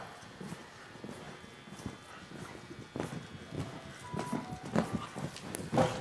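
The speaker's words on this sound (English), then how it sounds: "I'm going to slow my horse down" A rider's horse clip-clops at a slowing pace during a gymnastic jumping exercise in an equestrian medal class, with soft, irregular hoofbeats over low background noise that grow a little louder toward the end.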